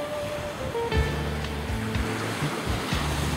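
Surf washes onto the beach at Aruba on the Caribbean Sea, a steady roar of breaking waves with wind buffeting the microphone throughout.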